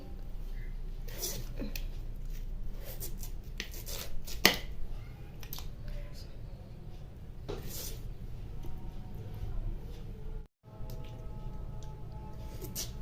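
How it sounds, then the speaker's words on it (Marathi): A knife cuts potatoes into pieces for a pav bhaji recipe, giving scattered sharp cutting taps at uneven intervals, mostly soft with a few louder strikes, while someone talks throughout. "बटाटे घेतले पाहू शकता हे असं चारच तुकडे करायचे बटाट्याचे"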